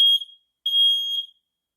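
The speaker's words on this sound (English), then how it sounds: "I don't know why the smoke detector or CO2 alarm went off." A smoke detector or CO alarm inside a bus gives two loud, piercing high-pitched beeps, one short and one longer, separated by a brief silence.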